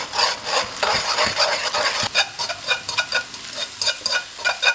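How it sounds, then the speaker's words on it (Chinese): Beaten egg poured into hot oil in a wok sizzles steadily while a spatula stirs it quickly into small curds, with repeated scraping strokes over the continuous frying hiss. "再次起锅放油，油热以后放入蛋液"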